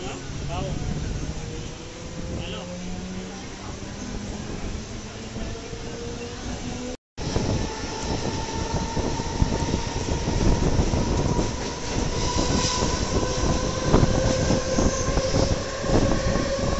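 A Mumbai local train rattles along steadily with rumbling wheels and a faint squeal, while people talk nearby over the noise.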